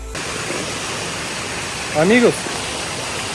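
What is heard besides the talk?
waterfall rushing in the mountains of Santa Catarina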